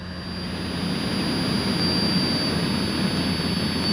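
Small airplane engine running steadily in flight with carburetor heat on after a carburetor icing encounter, a constant loud droning roar with a steady high whine, no talking.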